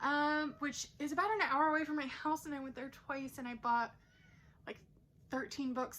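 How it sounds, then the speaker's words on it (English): A pet cat meows briefly and faintly in the background while a person keeps talking over it. "that's my cat meowing"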